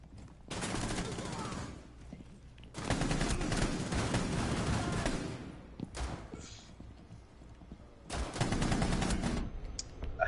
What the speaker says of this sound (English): It has so much recoil.